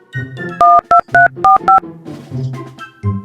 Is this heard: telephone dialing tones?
yes